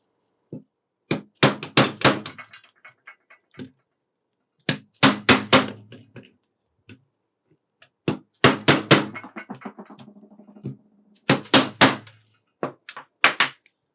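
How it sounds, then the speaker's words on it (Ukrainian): Repeated hammer blows driving a handguard part onto an AK rifle, in three bursts of rapid strikes with short pauses between, close and ringing, with no voices. "За необхідності забийте його туди молотком."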